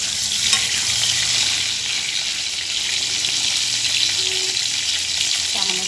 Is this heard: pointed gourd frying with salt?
yes